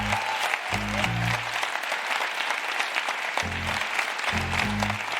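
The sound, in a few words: audience applause for the finalists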